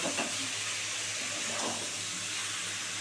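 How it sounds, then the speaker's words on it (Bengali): Small sea fish cooking in a pan with potato and eggplant, giving off a constant close hiss and sizzle of steam with faint stirring movement and no talking. "এই যে দেখেছো হালকো হাতে এবারে নেড়ে দিতে হবে"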